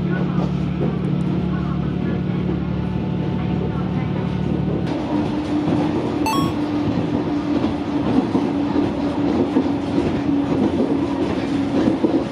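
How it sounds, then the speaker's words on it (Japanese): A local passenger train bound for Izumoshi, Japan, rumbles steadily along the rails, with a constant rolling roar and rhythmic clatter throughout. "それでは出雲市行きの普通列車に乗ります。"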